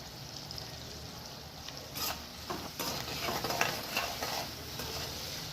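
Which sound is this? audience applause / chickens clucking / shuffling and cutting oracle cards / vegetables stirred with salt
vegetables stirred with salt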